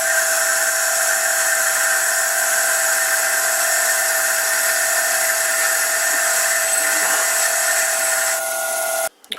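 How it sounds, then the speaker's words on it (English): An old, slow lathe bores a hole with a carbide insert boring bar, giving a steady high-pitched cutting whine with a constant tonal hum, running evenly at close range before a brief clatter at the end. "I've opened up the hole using that Vidia boring bar"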